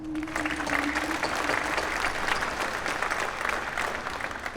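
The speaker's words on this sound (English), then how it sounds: "One more round of applause." Sustained applause fills a military retirement ceremony, steady and fairly loud for the full stretch, with a brief tonal note near the start and no clear talk over it.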